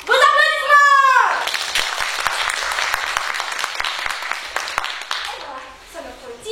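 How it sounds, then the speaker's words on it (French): A theatre audience at a carnival-themed show breaks into lively applause for a detective character, the clapping following a brief voice at the start and ending as someone starts talking again. "Vos applaudissements!"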